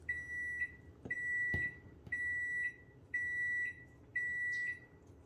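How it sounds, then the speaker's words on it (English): An oven beeps repeatedly in a kitchen while cilantro lime rice is prepared, giving five steady, evenly spaced electronic tones, each lasting about half a second, with a few soft clatters of kitchen handling between them. "Got the oven going on in the background"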